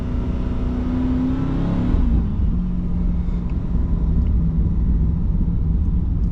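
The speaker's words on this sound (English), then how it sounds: "I put it in the sportiest setting and just downshift" A new Chevrolet C8 Corvette in its sportiest drive mode downshifts, a steady low engine rumble whose pitch steps down partway through, heard from inside the car with no talk.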